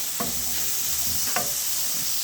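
Onions caramelize in a frying pan with a steady, even sizzle, close by, and two brief scraping stirs of a utensil cut through the hiss.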